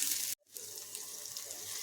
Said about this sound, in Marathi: थोडंसं पाणी घालून टाकून देते याच्यात